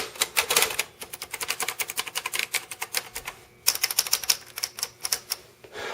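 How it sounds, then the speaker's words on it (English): An old salvaged typewriter being handled, its keys struck in fast irregular bursts of sharp close clacks, with a short pause midway before the typing resumes. "it's been a long time since I've actually picked up a typewriter"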